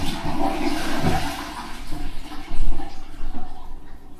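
A faulty household toilet flushes close by, a loud gushing rush of water that surges, dips, then swells again as the tank refills, with no talking.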